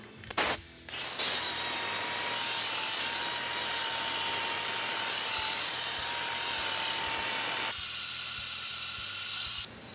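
A foam buffing pad on a machine polisher works over sanded car paint, a loud continuous whirring hiss with a steady hum that starts abruptly and cuts off near the end.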